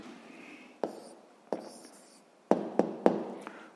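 A pen writes a math answer on paper in a quiet room, with a scratchy stroke and several sharp taps and clicks that come in an uneven rhythm, close and clear.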